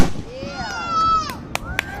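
Fireworks at a show in Kansas whistle upward in sliding tones, then two sharp pops crack out near the end, with people talking in the background.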